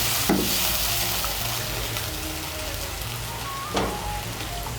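A splash of water hits frying dry red chilli paste, making a soft, steady rain-like sizzle with a couple of brief louder spurts.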